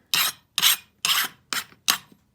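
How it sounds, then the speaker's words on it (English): Excess sand is scraped off a sand casting mold for a six-prong ring in five short, rasping strokes, evenly spaced and close. "Scrape that off."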